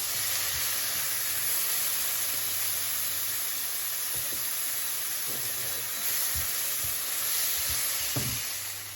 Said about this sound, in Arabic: بعد حبايبي ما قلبنا الطماطم مع البصل وخلاهم قلبناهم كده شويه